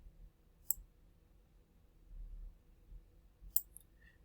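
Two sharp, quiet computer mouse clicks, a few seconds apart, in an otherwise near-silent room.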